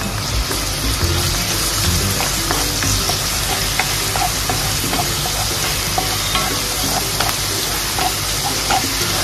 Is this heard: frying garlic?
yes